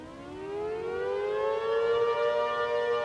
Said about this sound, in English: The dual tone of the tornado slash air raid slash civil defense sirens just has a creepy dissonance to it.